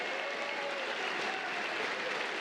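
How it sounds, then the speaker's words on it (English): Sustained audience applause for Stephen Hendry at a World Seniors Championship snooker match in 2023, a dense, steady clapping that fills the hall without letup from start to finish. "Ladies and gentlemen, another round of applause for Stephen."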